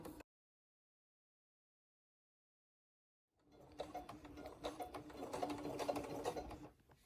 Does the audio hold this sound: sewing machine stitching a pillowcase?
yes